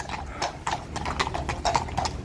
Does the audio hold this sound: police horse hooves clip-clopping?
yes